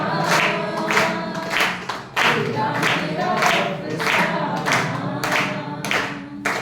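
An audience claps along in steady rhythm to a Hindi friendship song, loud, even claps repeating roughly twice a second over faint music and singing.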